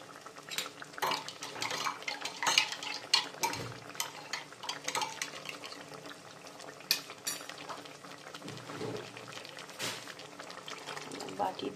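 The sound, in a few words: rinsing a bowl and pouring the water into the pot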